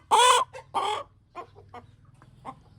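Chickens on a farm cluck nearby in a few loud, short bursts followed by softer scattered clucks over a low background hum.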